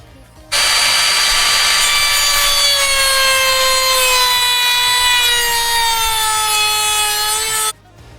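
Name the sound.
router cutting wooden board for campervan cupboards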